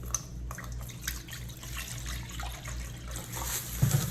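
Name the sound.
pouring distilled water to dilute foaming black soap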